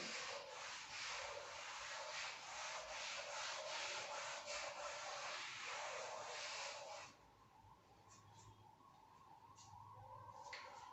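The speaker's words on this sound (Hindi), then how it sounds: "एक बार इसको रब कर देता हूं" Steady scrubbing of a board eraser rubbing across a classroom board, loud and continuous for about seven seconds, then softer intermittent rubbing strokes.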